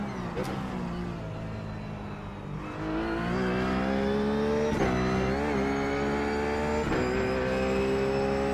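A Ruf GT3 race car at Sebring in the iRacing sim, its engine droning steadily and then climbing louder as the throttle opens, with pitch swells and a couple of sharp shift-like breaks. Someone speaks over it.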